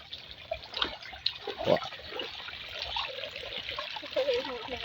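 Water from a waterfall trickles and splashes in a steady, moderately soft stream, with occasional brighter drips and faint voices in the background.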